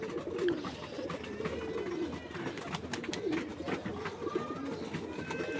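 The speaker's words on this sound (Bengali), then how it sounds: "এই যে কবুতর একটা আসতেছে" Pigeons at their loft give soft, low, repeated coos, faint and fairly distant over a steady background hiss.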